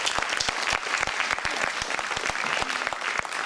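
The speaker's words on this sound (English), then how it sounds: "let's give Kathleen a big round of applause." Audience applause for Kathleen during a musical interlude at an event: a loud, continuous burst of crowd clapping with distinct individual hand claps popping out of the dense wash throughout.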